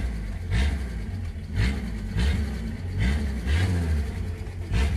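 A 1974 Jeep six-cylinder engine idles smoothly and quietly up close, a steady low rumble with gentle periodic swells, no talking over it.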